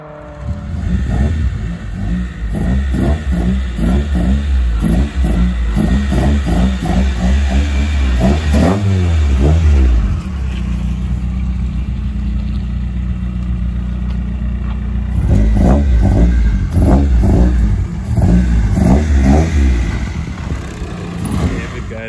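A Toyota Corolla AE92 with a 4AGE 20V engine revs repeatedly and loudly up close, sharp blips rising and falling, then a steady idle in the middle before another burst of revving, with faint talk underneath.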